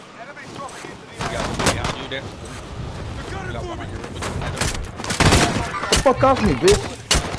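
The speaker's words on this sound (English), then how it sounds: "Someone's shooting me." Video game gunfire aimed at the player, scattered bursts and single shots, loud and close in several clusters, mixed with someone talking and swearing over it.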